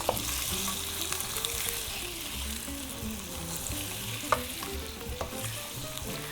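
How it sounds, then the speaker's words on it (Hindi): Food frying in a pan with a splash of water added for Indian home cooking, a steady close sizzle with occasional stirring clicks and scrapes, no voices over it. "मैंने यहाँ थोड़ा सा वाटर ऐड किया है ताकि ये अच्छे से इसमें फ्राई हो जाए"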